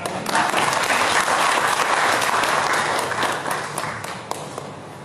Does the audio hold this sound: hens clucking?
no